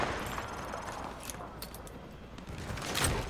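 Gunfire punches through light cover during a Call of Duty Modern Warfare 2 training mission, heard as faint, muffled bursts within a noisy, hissing background.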